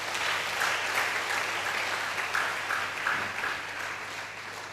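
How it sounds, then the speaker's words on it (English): An audience at a talk on communication gives a round of applause, a steady, moderately quiet spread of clapping from many hands that holds evenly throughout. "Another round of applause."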